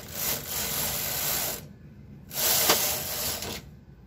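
A Silver Reed SK560 knitting machine carriage sweeps across a row at tension 10, a steady whirring mechanical rattle in two long passes with a short pause between, loud and close.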